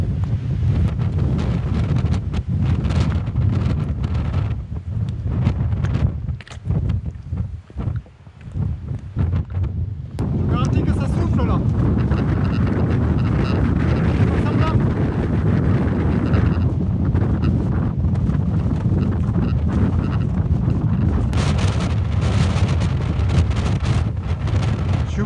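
Strong wind buffets the microphone in a continuous loud roar on the summit ridge of Mont Saint-Baudille in the Hérault, with a brief lull partway through before the gusts return at full force.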